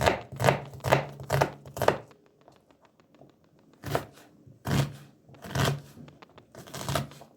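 A knife chops onions on a cutting board in a home kitchen, preparing a Turkish forest kebab: quick bursts of four or five close, crisp strokes, a pause, then several more sharp chops spaced apart.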